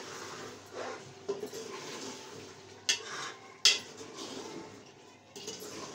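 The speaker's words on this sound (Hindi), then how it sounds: "इसकी भुनाई अच्छी तरह से कर लूँ।" Green chickpeas and meat roasting in a covered pot give off a low, steady cooking hiss, broken by a few sharp clinks of a utensil or lid against the metal pot, with no talk.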